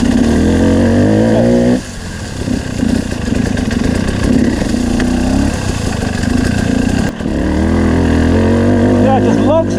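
Motorcycle engine lugging low in third gear while climbing uphill at around 1700 metres altitude, a steady deep drone with a brief dip in power midway, loud and close under wind noise.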